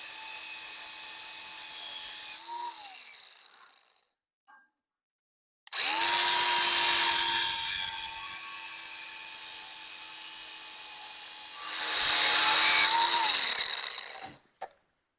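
A power tool cuts off the excess from a heavy wooden barn door in loud, sustained bursts separated by short pauses, with a high whine over a harsher grinding tone.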